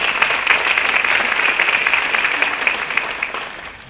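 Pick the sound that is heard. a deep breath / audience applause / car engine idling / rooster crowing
audience applause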